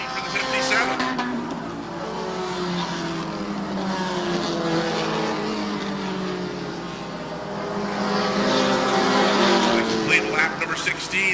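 Race cars roar around the track in a steady, layered engine drone that swells as the cars come closer. A voice talks over the engine noise.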